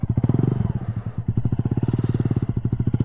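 Motorcycle ridden by a new rider, a close engine idling and pulsing in a fast, even thumping rhythm that steadies after a brief rev at the start.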